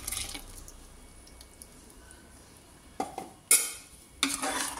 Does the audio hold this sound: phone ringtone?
no